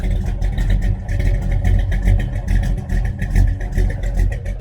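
A 1966 Dodge Charger engine fitted with a Holley 4150 carburetor idling steadily, a loud, close, rumbling low throb with a slightly uneven pulse and no talk over it.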